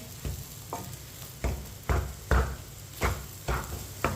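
Semolina roasts in a pan over medium-low heat for laddu, with a regular rhythm of scraping stirs roughly every half second over a soft, low sizzle. The strokes are close and moderately loud, with no talk.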